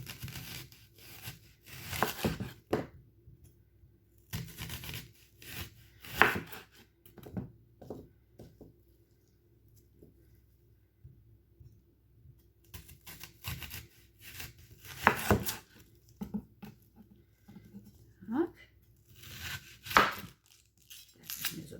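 A knife slices food into large rings on a cutting board in quiet, irregular bursts of strokes separated by pauses.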